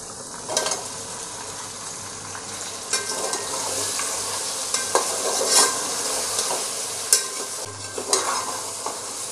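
Potatoes and mutton, with tomatoes, are fried together in a pot for Bakrid mutton yakhni pulao, giving a loud, steady sizzle with repeated scraping stirs and clinks.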